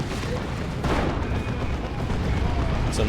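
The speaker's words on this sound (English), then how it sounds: "Cyclone missile launcher barrage" A Cyclone missile launcher barrage in Dawn of War 2, a rumbling string of launches and impacts blending into ongoing battle gunfire and explosions, loud and continuous, with a commentator talking over it.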